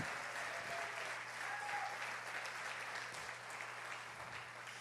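A church congregation claps continuously at a steady, moderate level, the dense applause holding even throughout with no voices standing out.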